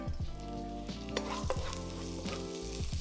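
Ginger sizzling in sesame oil in a hot wok while being stirred, a loud close crackling sizzle broken by rhythmic scraping strokes of a utensil, no voices.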